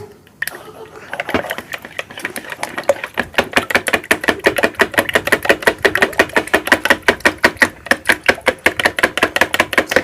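Egg and cornstarch batter whisked briskly in a bowl for rolled-omelette street food, a fast steady run of close tapping strokes that starts after a short pause and continues without a break.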